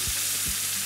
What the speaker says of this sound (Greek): Και τώρα ήρθε η ώρα να σβήσουμε το τηγανάκι μας με λίγο ντομάτα,